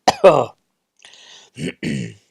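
A man gives a couple of sharp coughs followed by rough throat clearing, short bursts separated by silence, close and loud, during a golf video game commentary.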